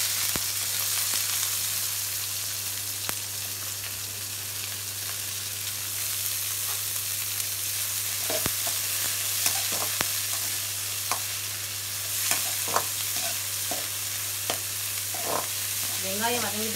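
Onion and curry leaves sauté in hot oil for a potato gravy, giving a steady, close sizzle with scattered clinks and scrapes of stirring and a brief squeaky rising sound near the end; no one speaks.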